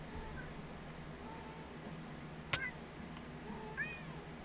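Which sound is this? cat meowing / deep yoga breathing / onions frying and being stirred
cat meowing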